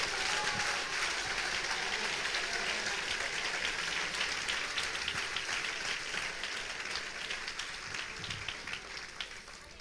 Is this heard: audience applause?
yes